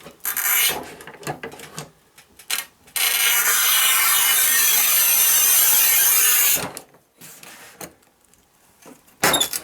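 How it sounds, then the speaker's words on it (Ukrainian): A Topvei V-2012 manual tile cutter scores a glossy tile in one long, loud, even scraping stroke, framed by short clicks and knocks as the cutter is set and moved. "Зараз спробуємо різати глянець."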